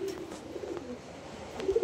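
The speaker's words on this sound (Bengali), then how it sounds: "এখানে একজোড়া লোটন কবুতর 1 বছর হচ্ছে আমার খামারে সেট আপ দিয়েছি।" A pair of Lotan pigeons on a home pigeon farm at midday, giving soft, low cooing calls in short repeated phrases, fairly quiet and close.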